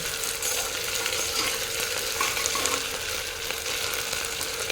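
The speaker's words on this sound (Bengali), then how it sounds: "এখন আমি এর মধ্যে দিয়ে দেবো আদা রসুনের পেস্ট আদা রসুনের পেস্টটা দিয়ে মিনিট দুই তিনে একটু কাঁচা ভাবটা শুধুমাত্র চলে যাওয়া পর্যন্ত নেড়ে নেড়ে ভেজে নেব" Ginger garlic paste sizzles and spits in hot oil in a pressure cooker on high flame while being stirred, a steady close crackling fry with scraping stirs and no talking.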